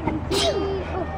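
A single quick sneeze bursts out close by, just outside a church, with faint voices around it.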